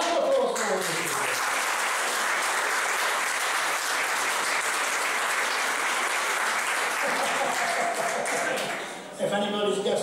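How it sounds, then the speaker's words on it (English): Enthusiastic applause from an audience fills the room, sustained and loud, tapering off near the end as a voice briefly comes through. "Round of applause for all of you."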